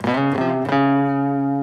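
Distorted electric guitar notes from the intro of a song are picked with no muting. After a couple of quick attacks, the final note rings on loud and sustained until the end.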